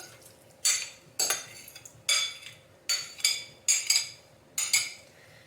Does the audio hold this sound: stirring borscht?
yes